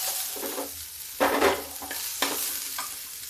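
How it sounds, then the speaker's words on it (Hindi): Onions fry in a pan and are stirred in short bursts, with several scraping strokes over a steady crackling sizzle, close and clear, with no one speaking. "प्याज ज़्यादा हमें ब्राउन नहीं करना है"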